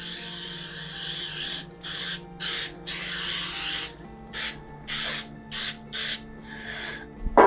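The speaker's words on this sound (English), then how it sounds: "I'm just gonna grease it up with some cooking spray." Cooking spray hisses from an aerosol can onto a pan in a series of bursts, one long continuous blast followed by about six short, sharp sprays close to the mic, with no talking.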